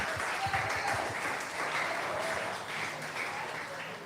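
A church congregation claps steadily for Christ, a dense, sustained wash of applause at moderate distance.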